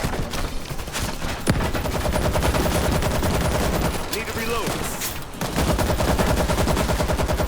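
Dense, rapid automatic gunfire from the zombie shooter World War Z, bursts overlapping almost continuously at close range, with a short lull midway before the shooting resumes at full intensity.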